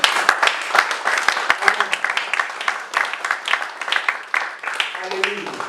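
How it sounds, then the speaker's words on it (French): Church congregation at a Sunday service applauding and cheering, dense mid-distance clapping with shouts mixed in, steady throughout with voices over the top. "Acclame-le s'il te plaît."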